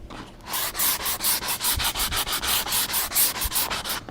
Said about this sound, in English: We're also going to sand the bottom that goes against the floor, the bottom of our leg that goes against the floor, so it won't splinter.